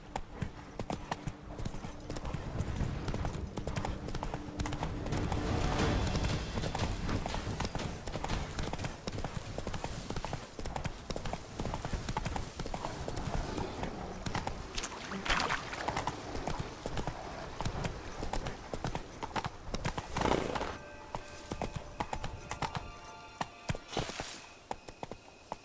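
Horse hooves clip-clopping steadily at a gallop in The Witcher 3, a dense continuous rhythm of hoofbeats with game ambience and a few brief higher sounds near the end.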